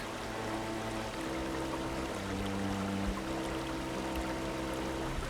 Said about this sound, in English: Here, I was pointing the microphone back toward the waterfall, and it definitely makes itself heard.